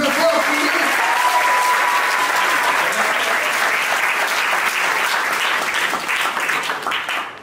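Sustained applause from wedding guests at a civil marriage ceremony, dense steady clapping throughout that begins to thin toward the end, with faint voices mixed in.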